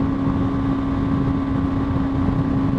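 A 2020 BMW G 310 R motorcycle engine held at 8,000 RPM while cruising at 80 mph on the highway, a loud, steady droning hum mixed with rushing wind noise, continuous throughout.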